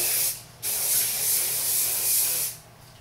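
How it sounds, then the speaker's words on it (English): Hairspray hissing onto hair in two long bursts, close and steady, with a short pause between them and a quiet tail at the end. "So I'm just going to spray it all over my hair."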